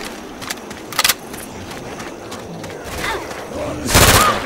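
Gunshots in the zombie shooter Left 4 Dead 2: scattered single cracks, a quick double burst near the one-second mark, then a louder, denser volley toward the end over a busy game backdrop.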